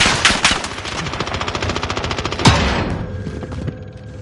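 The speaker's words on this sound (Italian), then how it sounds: "Mi sparano!" Rapid automatic gunfire crackles loud and close in a PS4 shooter game, with a steady stream of rattling shots and a sharper burst partway through. No one speaks.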